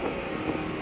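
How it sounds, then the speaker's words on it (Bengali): Strong wind buffets the microphone at an outdoor work site, a steady low roar with rumbling gusts, continuous and close, without speech. "হাওয়া বেশি আজকে"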